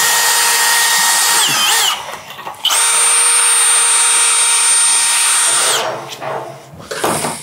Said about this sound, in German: Ich bohre da mal ein Loch rein.